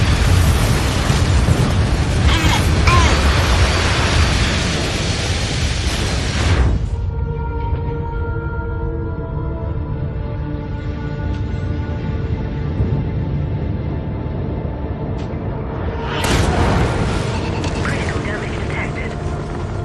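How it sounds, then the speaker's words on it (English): Loud, heavy explosions from an incoming airstrike in the mech combat game MechWarrior 5: Mercenaries roar for several seconds, drop to a quieter rumble, then burst again near the end. "Incoming airstrike!"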